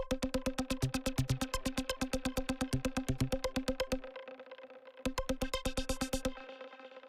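Vintage-style synth pluck patch in Phase Plant with a macro opening up its envelope, playing a fast run of repeated short plucked notes with occasional lower notes, stopping for a second before another short burst, clean and close, no voices.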